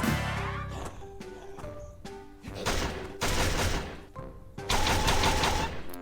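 Uzi submachine gun firing in the shooter game ARM Lastwar, with bursts of rapid automatic shots in several clusters over game music, close and loud.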